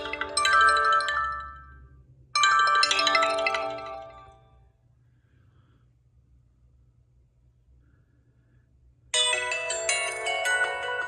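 A ringtone played loudly through the front dual BoomSound speakers of an HTC One M7 phone, sounding in three bright chiming bursts separated by a long gap of near-silence.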